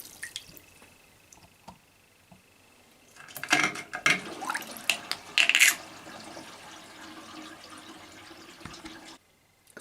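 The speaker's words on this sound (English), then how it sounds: "When the water's going directly over the lens it seems to flicker" Water trickles and splashes over a ThruNite Archer 2A V3 flashlight during a water-resistance test, with quiet dripping at first, then a louder burst of pouring and spattering in the middle before it fades back to faint drips.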